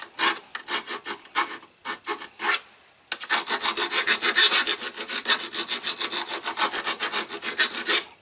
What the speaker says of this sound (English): So just take a file and just file them off.